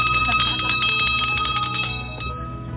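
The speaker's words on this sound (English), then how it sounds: "This is the Welcome to Paradise bell." A ship's bell rung on a motor yacht anchored in the Marquesas gives a rapid run of bright, ringing metallic strikes for about two seconds, then one last clang that slowly rings out.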